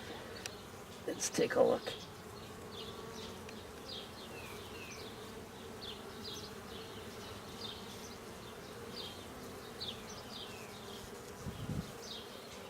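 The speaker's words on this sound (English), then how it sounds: "There's a ball of bees there." Honey bees buzz steadily around an open hive during an inspection that turns up damaged queen cells, a continuous close hum of many insects while a voice speaks briefly at the start.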